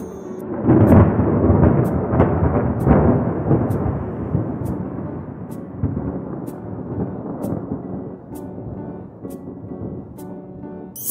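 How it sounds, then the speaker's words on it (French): A deep rumble of thunder rolls loudly, swelling early and slowly fading over several seconds, with faint rain hiss beneath. "C'est le bruit du tonnerre."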